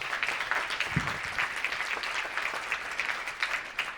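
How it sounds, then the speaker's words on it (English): Clapping from the audience at a League of Minority Voters civil rights candidate forum, a steady, moderately loud spread of many hands applauding for several seconds with no talk over it. "Give him a round of applause."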